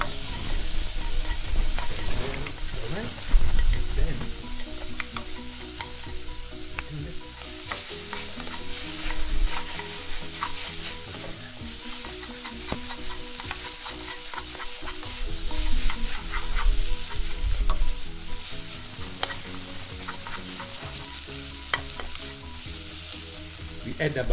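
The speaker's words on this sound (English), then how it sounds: "now we start to mix it with the eggs" Vegetable noodles frying with eggs in a pan, with a steady loud sizzle and repeated scraping and clacking of stirring throughout, close up and without talk.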